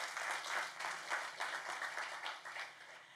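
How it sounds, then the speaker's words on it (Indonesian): A church congregation applauding during a Christmas sermon, steady rapid clapping from many people at a moderate distance, continuing unbroken throughout with no talking. "Boleh saudara tepuk tangan buat Tuhan."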